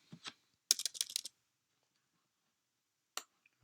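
Typing on a computer keyboard comes as two short bursts of quick, close key clicks, then a long silence and a couple of isolated taps, with no talk over them.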